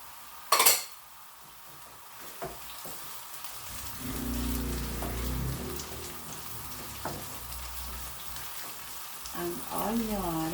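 Onion hits hot oil in a pot for tinola and sets off a steady, crackling sizzle that continues to the end, after an earlier sharp clatter of a utensil against cookware.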